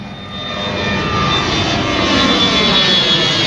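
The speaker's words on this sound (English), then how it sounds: "Ooh, airplane ooh." Jet airliner flying overhead near an airport runway, a loud sustained engine roar that swells slightly and holds steady for several seconds.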